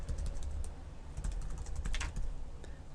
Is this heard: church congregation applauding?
no